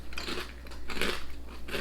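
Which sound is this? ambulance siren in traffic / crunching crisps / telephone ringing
crunching crisps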